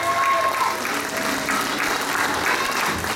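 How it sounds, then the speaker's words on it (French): A concert audience applauds a tribute singer in a continuous dense wash of clapping, steady and fairly loud throughout, with faint crowd voices mixed in. "Vous pouvez également les applaudir."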